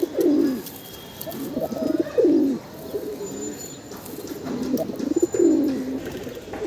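Pigeons in a loft give repeated soft, throaty coos in short rolling bursts about every second or two, close by, with faint chirps in the background and no talk.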